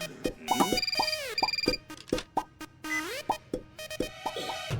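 A phone rings after a call is placed on a Hindi TV comedy set at a women's police station: a bright electronic ringtone of bouncy, plucked tones and quick sliding chirps repeats in lively bursts, with no talking.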